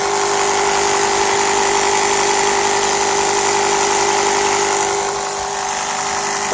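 A jump starter's built-in electric air pump runs steadily while inflating a tyre, a loud, continuous motorised buzz that holds even throughout and dips slightly near the end, with no talking.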